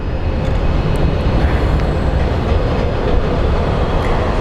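A CRJ regional jet takes off from Phoenix Sky Harbor International Airport bound for Salt Lake City, a loud, sustained roar of jet engines with steady low rumble and no talking.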